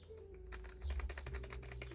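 Computer keyboard keys, including the left control key, are pressed in a rapid run of close, crisp plastic clicks over a low steady hum, with no talking.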